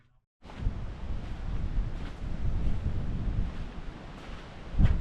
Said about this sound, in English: Another cold, wet, windy day up here